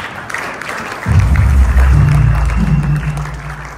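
A church congregation bursts into applause and cheering after a quiet moment, a thick wash of clapping that swells loudly and keeps going steadily, with faint voices mixed in.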